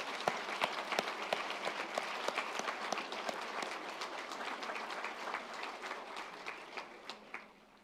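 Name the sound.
applause for family and friends at graduation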